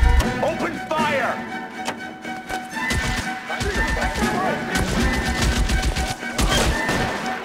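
Gunfire during a shootout in L.A. Noire, rapid cracking shots in quick bursts mixed with engine noise and background game sound, voices talking in between.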